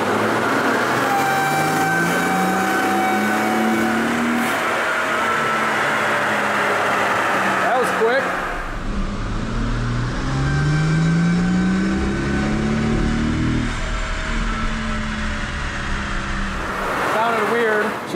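A Mercedes CL65 AMG V12 with an M275 engine revs on an all-wheel-drive dyno, its engine rising and falling through two long pulls, loud and close, while people talk over it.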